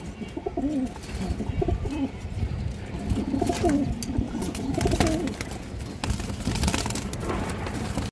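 A pet female pigeon and others coo steadily up close, repeated throaty rolling calls over a busy background of rustling and faint chirps.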